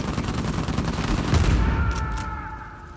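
Sustained rapid minigun fire in a video game, dense and loud across the whole stretch, with a brief rise in intensity midway before tapering slightly.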